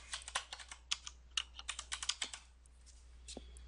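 Quick bursts of keystrokes clatter on a computer keyboard while a query goes into a search box, close and crisp, in an uneven rhythm of about a dozen taps that thins out toward the end.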